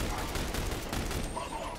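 Automated turret gunfire in The Bureau: XCOM Declassified, a dense, continuous rattle of rapid shots layered with game combat noise for a couple of seconds, with voices mixed in.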